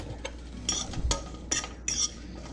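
A utensil stirs seasoned asparagus in a pan with several separate scraping and clinking strokes over a soft background sizzle, fairly close and uneven in rhythm, with no talking.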